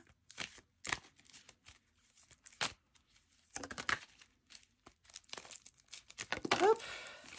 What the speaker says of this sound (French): je vais mélanger mes petites cartes.